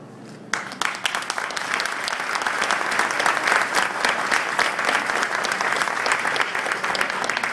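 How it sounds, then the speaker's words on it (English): An audience at a ribbon-cutting ceremony bursts into applause after a moment of quiet, sustained dense clapping that holds steady to the end. "Thank you for the applause, but the applause goes to these folks."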